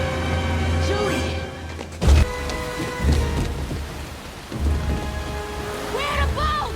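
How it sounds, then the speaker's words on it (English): A heavy thunderstorm in a film scene, with steady loud rain and sharp cracks of thunder striking repeatedly over a music bed, the rumbles rolling in at intervals throughout. "Storm season begins today."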